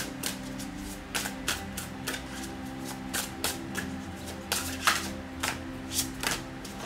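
Tarot cards are shuffled by hand in a steady run of crisp riffling bursts, each a short papery flutter, repeating roughly every half second, close and clear against a faint low hum, with no talking.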